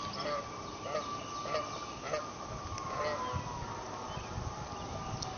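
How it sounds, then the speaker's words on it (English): Geese honk repeatedly at moderate distance in an outdoor setting, with voices and broadband background noise running under the calls. "look at the geese."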